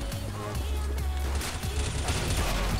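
Rapid gunfire in Counter-Strike: Global Offensive, several sharp shots cracking over a dense, loud game soundscape with low rumble throughout.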